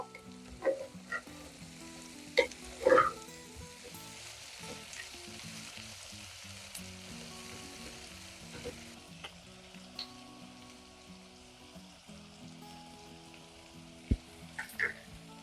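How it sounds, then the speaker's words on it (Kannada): Mutton pieces fry in a pan while their water cooks off, giving a soft continuous sizzle with scattered crackles and occasional clinks of stirring, fairly quiet with no voices. "ಸೊ ಈ ಮಟನ್ ಅಲ್ಲಿ ನೀರಿದೆ ಅಲ್ಲ, ಅದು ಸುಂಡೋಗೋವರೆಗೂ ಇದನ್ನ ನೀಟಾಗಿ ಹುರ್ಕೋಬೇಕು"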